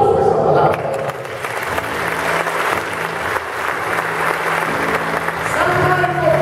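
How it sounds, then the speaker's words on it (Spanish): A church prayer group breaks into applause, a dense, steady clatter of many hands filling the room at close range and lasting several seconds, with faint voices underneath. "Y aplauso esa palabra."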